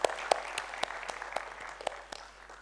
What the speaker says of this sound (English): I think Kushal should have a round of applause.